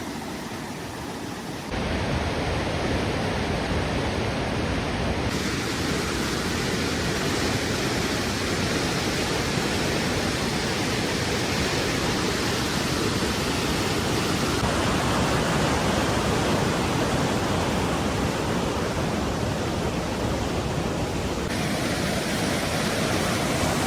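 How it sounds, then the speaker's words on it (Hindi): A strong flow of glacier-fed river water in Stak Valley, Skardu, rushing in a dense, continuous roar close by, loud and steady throughout with no voices. "इस तरफ देखें तो दरिया का फ्लो अच्छा खासा है, ग्लेशियर का पानी है"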